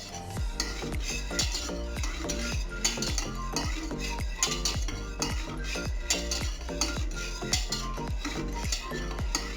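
Crème anglaise cooking in a pan while being stirred in figure eights, a repeated rhythmic scraping and light clinking of the utensil against the pot, steady and close with no talk.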